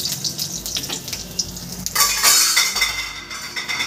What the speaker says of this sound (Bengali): বড়াটা আমি উল্টে পাল্টে সুন্দর করে ভেজে নেব।